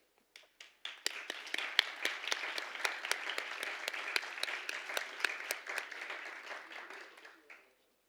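Sustained applause from a crowd at a grade 6 school ceremony, dense clapping that builds quickly, holds steady for several seconds, then tapers off.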